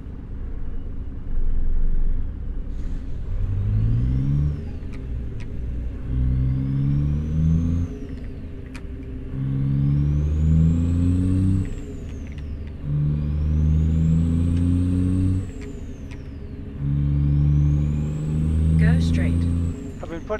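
Freightliner Classic XL truck engine in American Truck Simulator, a big diesel rumbling and climbing through repeated upshifts, each gear pulling up in pitch before dropping, with a whistling turbo whine above and brief hissing bursts.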